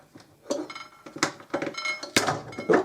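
Parts of a food processor are handled and slotted into place in a kitchen: a string of close, irregular plastic and metal clinks and clatters, some sharper knocks among lighter taps, with no talking.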